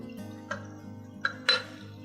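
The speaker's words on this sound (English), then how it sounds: "we're just mixing some of the syrup into taste" Syrup stirred into a glass of sparkling water: three light, sharp clinks against the glass over a low steady hum.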